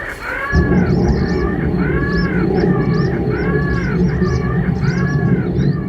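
Recorded crow distress call used to scare birds, a harsh repeated cawing in regular bursts about every second, loud and close over a constant low rumbling background.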